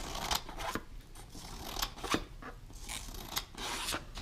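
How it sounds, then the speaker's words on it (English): Long Dollar Tree brand scissors snipping repeatedly, a series of close, crisp cuts in an irregular rhythm with no talk. "This one is the Dollar Tree brand, and it's a longer pair of scissors."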